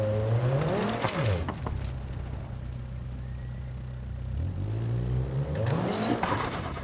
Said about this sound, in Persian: بک فایرهای ماشین رو میدید رک باری بک میده